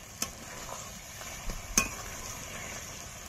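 Chicken pieces for a Bengali chicken curry fry and sizzle in a pan, with a steady hiss and a few sharp scrapes and clinks of a spoon stirring, close up, no talking.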